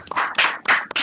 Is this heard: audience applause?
yes